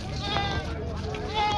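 Goats bleat repeatedly at a busy weekly goat market in Jawala, Aundha Nagnath taluka of Hingoli district, with the calls rising over a steady crowd murmur and nearby voices talking.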